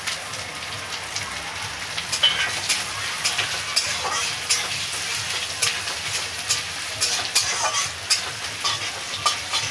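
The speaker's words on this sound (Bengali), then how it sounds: "নারকেলটা একটু লাল লাল ভাজা হয়ে যাবে" Grated coconut fries in a pan with ginger for a coconut chana dal, giving a steady close sizzle and crackle broken by scrapes and clicks of stirring, with no talk.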